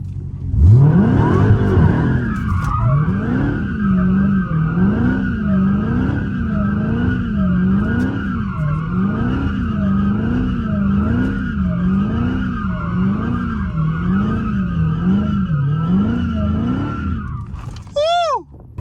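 Dodge Hellcat spinning and skidding in snow, its engine revving in steady rising-and-falling waves with loud continuous tire squeal and skid noise, close and alone for most of the stretch.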